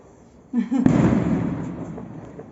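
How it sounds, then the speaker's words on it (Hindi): Firecrackers burst outdoors during a festive celebration: a sharp pop, then a loud crackling roar that slowly fades over about two seconds, with no talking over it. "मेरा टुट्टू डर रहा है पटाखों से डर रहा है टुट्टू"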